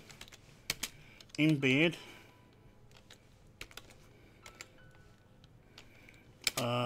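Someone types code on a computer keyboard, sparse clicks and short bursts of keystrokes, with someone speaking briefly over the tapping.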